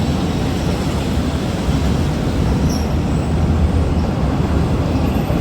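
A train crosses the Bridge on the River Kwai, a steady loud low rumble and rolling roar of wheels and carriages that continues unbroken and close by.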